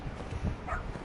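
Dog in the video game Lost Judgment giving a brief yip or whimper, a short sound that stands alone in one quick burst.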